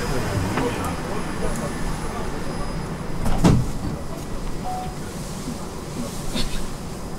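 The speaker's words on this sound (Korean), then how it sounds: "Doors are closing." Train doors on an urban maglev slide shut with a brief clunk amid steady cabin hum, while recorded announcements play around it.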